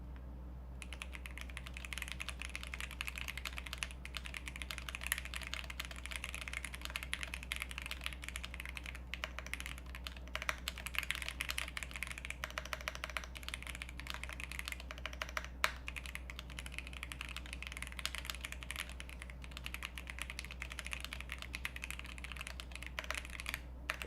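Steady, faint typing on a Digma Race 2 split computer keyboard, with quick continuous key clicks over a low constant hum for a long stretch and no talking.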